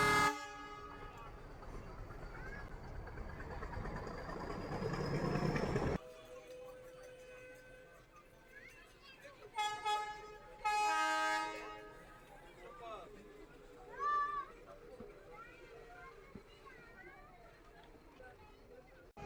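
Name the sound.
toy train passing on mountain railway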